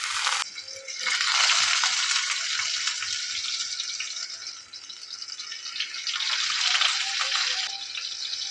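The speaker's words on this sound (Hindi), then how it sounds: "इसमें जो है कबाब फ्राई करेंगे।" Chicken kebabs sizzle in fully heated oil, a steady loud broadband frying hiss that swells in two dense waves with no talk over it.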